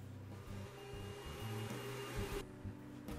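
A repaired Oreck upright vacuum cleaner runs with restored suction, a steady whirring motor drone with shifting low rumbles and a few bumps as it moves, with no talking.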